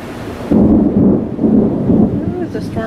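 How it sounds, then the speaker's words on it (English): Thunder from an approaching storm rolls in with a sudden loud, deep rumble that swells and churns for a couple of seconds outdoors, with a faint rustling background. "there's a storm coming."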